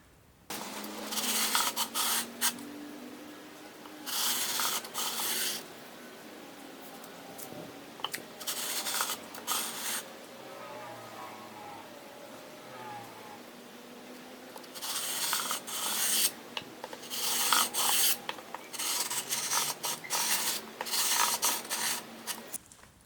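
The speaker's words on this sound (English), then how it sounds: "So we'll need to sand this side a little bit." A guitar fret is sanded during a fret install, with bursts of rough rasping strokes in rhythmic runs separated by quieter pauses, close and loud.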